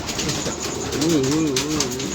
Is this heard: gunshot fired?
no